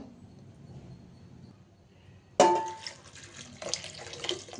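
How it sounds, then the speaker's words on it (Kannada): Water pours onto lentils with turmeric in a pressure cooker for mango dal, starting abruptly after a quiet stretch and running as a close, splashy stream that surges again near the end. "ಈಗ ಇದಕ್ಕೆ ನೀರು ಹಾಕ್ಬಿಟ್ಟು ಇದನ್ನು ಒಂದು ಮೂರು ವಿಷಲ್ ಕೂಗಿಸ್ಕೊಬೇಕು"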